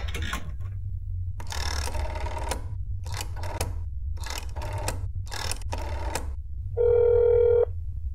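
An old-style telephone bell rings repeatedly in the horror game That's Not My Neighbor, sounding in short bursts over a steady low hum, then a sustained electronic tone follows.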